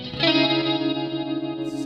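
Electric guitar riff played through a BOSS MS-3 multi-effects switcher with delay and reverb engaged, sustained chorus-tinged chords ringing out with long echoing tails, alone with no talk.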